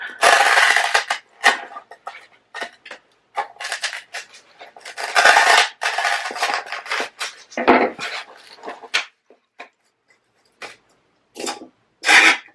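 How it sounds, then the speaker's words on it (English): Crafting shears cut small pieces of foam to fit inside clay pots, producing crisp, close snips and short crunchy bursts in an irregular rhythm, with brief quiet gaps between cuts. "I'm going to pull out my crafting shears once again, and I'm just going to cut little bits of foam to go inside each clay pot"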